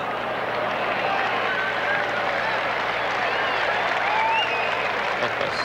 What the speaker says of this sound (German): Etwas höhnischer Beifall